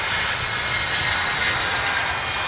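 Aircraft engine roar next to East Midlands Airport, a steady, loud, broadband jet drone held throughout with no pauses.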